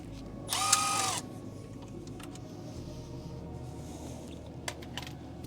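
A Torx bolt is worked out of a ball joint on an FL5 Civic Type R with a power tool. One loud half-second whirring burst is followed by quieter shop noise and a few faint clicks.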